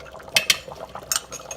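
Short rib gravy being stirred in a hot Instant Pot on saute, a few quick metallic spoon scrapes and clinks against the pot over a soft liquid bubbling, brief and close.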